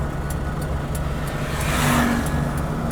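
A car's engine runs steadily after being shifted into first gear with the clutch pressed, a continuous close rumble and hum with a slight swell in the middle.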